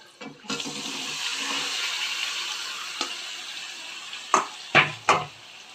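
Marinated mutton dropped into hot oil gives a loud, steady sizzle that runs for several seconds, then a few sharp clatters of utensils close by at the end.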